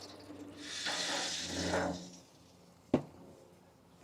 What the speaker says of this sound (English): So we'll get some water going in there.